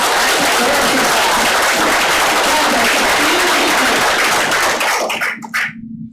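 Loud, dense clapping from an audience at a nursing program orientation, steady and sustained before quickly dying away at the end.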